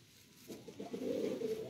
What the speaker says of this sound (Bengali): এটা কি টিপলার পায়রা?